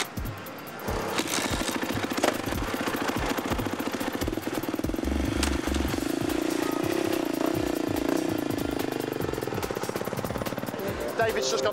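A supermoto motorcycle engine roars loudly and steadily at a practice session, its rapid rattling exhaust pulses sustained throughout with a brief rise in revs near the end; a voice is faintly audible underneath.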